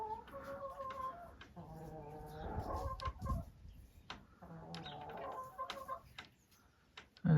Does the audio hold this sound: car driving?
no